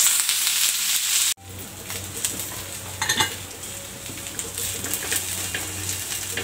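Sliced onion roasting in a pan for a home-cooked meal: a loud opening burst of sizzling, then a lower steady crackle with scraping stirs and a few metallic clinks of a utensil against the pan, no talking.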